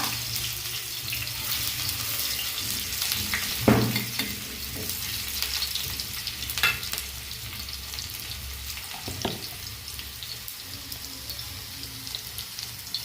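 Garlic, green chillies and onion fry in hot oil in a pan, a steady close sizzle with occasional stirring scrapes and clinks, and no voices.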